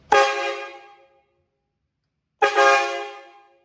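A loud train horn kit on a Chevrolet Silverado pickup sounds twice, each long blast fading out, separated by about a second of silence.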